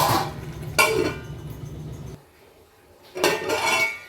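Metal pot lid and cookware clatter while palak paneer cooks on the stove, two clusters of clinks and scrapes with a quiet gap between, close and with no talking.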